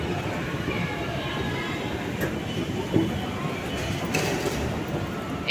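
A Kolkata East West Metro train running underground between Sealdah and Howrah, a steady loud rumble and hum of the carriage with faint rail clicks, heard from inside with little variation.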